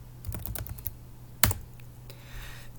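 Keys clatter on a computer keyboard in a quiet room as someone types a short entry into a travel voucher form, a few quick taps followed by one louder keystroke, then softer clicking trailing off.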